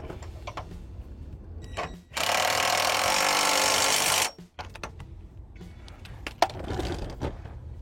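16mm bolts are tightened on a car subframe brace: a loud, steady power-tool whir runs for about two seconds, close by, framed by quieter clunks and handling noise.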